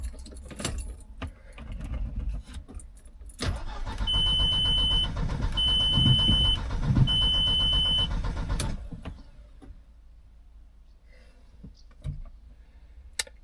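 A tuned car's starter cranks steadily for about five seconds with a whirring drone, and the engine never catches. Keys jingle and clicks sound before and after, in an otherwise quiet space.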